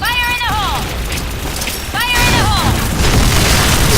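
A grenade goes off in the shooter game Point Blank on a Downtown map, a loud broadband blast near the two-second mark swelling into a sustained rumbling roar, after earlier high warbling game tones.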